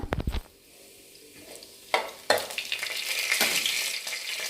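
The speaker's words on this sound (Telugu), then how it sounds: "గిన్నె వేడెక్కింది నాలుగు టేబుల్ స్పూన్ల ఆయిల్ పోసుకోవాలి ఇప్పుడు ఆవాలు జీలకర్ర వేసుకుందాం" Mustard and cumin seeds sizzle and crackle in hot oil: a few sharp pops at first, then a rising hiss with scattered bursts of spattering.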